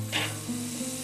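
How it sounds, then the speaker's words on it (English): A slab of ribs sizzles on a hot grill grate, a short burst of frying hiss with a brief crackle, close and alone. "I'm going to go ahead and get this slab of ribs, throw it on the grate."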